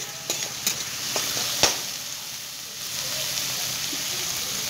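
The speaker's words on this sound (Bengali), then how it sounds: "হিট মিডিয়ামে রেখে 1 মিনিটের মতো পেঁয়াজটা আগে আমি ফ্রাই করে নেব।" Onions frying over medium heat in a pan for a Lahori chicken dish, a steady close sizzle running throughout, with a few light clicks of stirring near the start and no talk.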